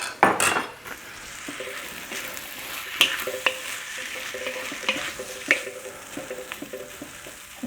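Spicy turkey fried rice with soy and oyster sauce sizzling in a pan while a utensil breaks it up, giving irregular metallic scrapes and clinks over a steady frying hiss.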